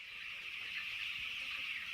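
Thousands of chickens on a leafy, semi-urban poultry farm in Trinidad fill the air with a steady, dense chorus of clucking, a continuous flock din at moderate loudness.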